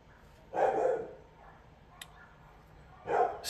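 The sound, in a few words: dog barking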